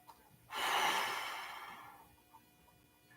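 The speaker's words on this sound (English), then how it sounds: "Now I'm exaggerating the breathing a little bit because I want it to be visible in the camera." A slow, exaggerated breath during a stretching exercise: one long, audible airy exhale rising sharply and fading over about a second and a half, close and alone with no talking.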